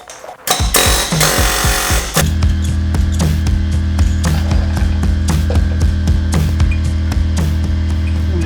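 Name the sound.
pneumatic air hammer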